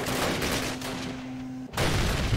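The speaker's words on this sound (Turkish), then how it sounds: "Biz ona mermi sıkıyoruz komutanım." Dense gunfire in Call of Duty 1: a loud, continuous clatter of rifle and machine-gun shots that breaks off briefly near the end, then resumes just as heavily.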